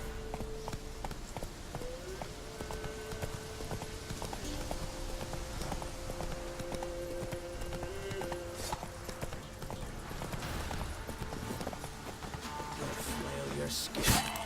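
Hooves of Geralt's horse Roach clip-clop steadily in The Witcher 3, a continuous trotting rhythm under constant game ambience and music, with a brief louder thump near the end.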